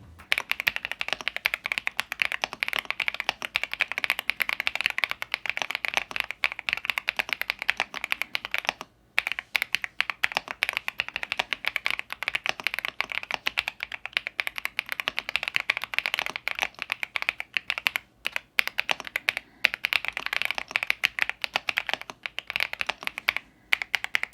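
Continuous fast typing on an iLovBee B87 mechanical keyboard, close and loud, with clacky keystrokes running nonstop and only a few brief pauses.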